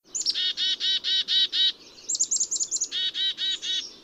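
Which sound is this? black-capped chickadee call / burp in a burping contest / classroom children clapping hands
black-capped chickadee call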